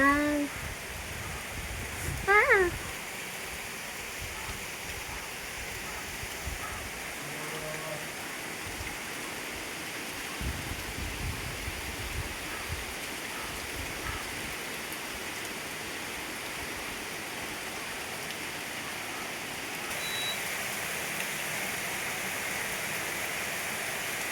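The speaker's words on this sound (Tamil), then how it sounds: "பெரிய மழை வருது தெரியுதா?" Heavy rain pouring outside a house, a steady broadband hiss of water that holds for the whole stretch, with a brief voice and a few faint knocks near the start.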